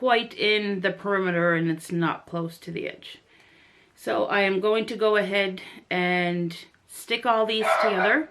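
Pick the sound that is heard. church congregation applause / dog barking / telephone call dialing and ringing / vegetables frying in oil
dog barking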